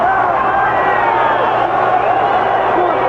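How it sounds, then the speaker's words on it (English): A large football stadium crowd at a USFL game between the Showboats and Breakers swells into a steady, distant roar after an interception, sustained and even throughout. "The crowd is finally getting into the game after the third interception."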